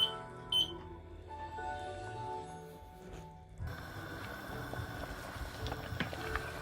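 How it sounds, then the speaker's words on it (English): A kitchen timer goes off while oxtail with tomato, onion and pepper cooks, giving a few short, fairly faint electronic beeps near the start over a low background of kitchen and cooking sounds. "There goes my timer."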